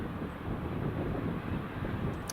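An EasyJet airliner taxies at Edinburgh Airport, its steady low engine rumble blending with outdoor wind noise. The rumble stays even throughout, with a faint brief tone near the end.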